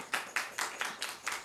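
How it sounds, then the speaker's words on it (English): An audience applauding at a parish government council meeting, a short burst of fairly close claps falling in a loose, uneven rhythm. "I was waiting until they got done applauding for me"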